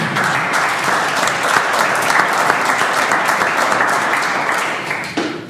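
Audience at a talk on liberalism in Maia, Portugal, breaking into steady, full applause that holds dense and loud throughout before tapering off at the very end.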